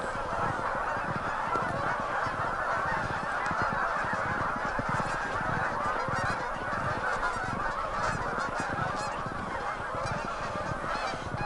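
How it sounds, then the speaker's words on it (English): A flock of geese honking as they lift off, a dense continuous chorus of overlapping calls at steady loudness throughout, with no voices. "Just one little clan of geese up and left."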